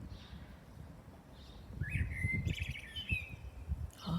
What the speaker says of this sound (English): Oh, it's a beautiful blackbird.